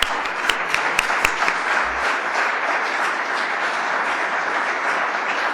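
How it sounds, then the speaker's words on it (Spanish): At a conference event, an audience bursts into sustained applause, with a few sharp individual claps at the start before it settles into a dense, even roar of clapping that continues throughout. "Un aplauso para todos ellos."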